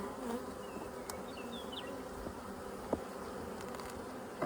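Honeybees buzzing in a dense, steady drone close by at a crowded hive, with occasional faint clicks and knocks.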